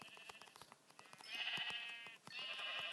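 Minecraft sheep bleat twice in the game, wavering nasal cries up close and fairly loud, separated by a short gap, with light clicking and scattered game sounds around them.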